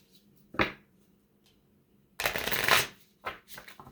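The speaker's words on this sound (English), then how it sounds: "Doesn't count if I don't shuffle today." A deck of oracle cards being shuffled by hand, with a short riffle, then a longer crisp flutter of cards, followed by a few softer taps and slides, close and quiet.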